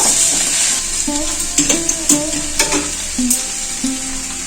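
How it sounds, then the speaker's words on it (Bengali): Pieces of drumstick vegetable are stirred in a hot cooking pan for an old-style shukto, giving a constant sizzle of frying broken by repeated scraping and clinking strokes of a spoon against the pan. "এটা হচ্ছে সজনে ডাটা একটু নাড়াচাড়া করে আবার ঢাকা দিয়ে দেবো"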